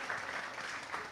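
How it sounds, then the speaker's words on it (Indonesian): Audience clapping for Mbak Nina at a youth climate-resilience talk show, a steady wash of many hands close by, sustained and fairly even with no voices over it. "Tepuk tangan buat Mbak Nina."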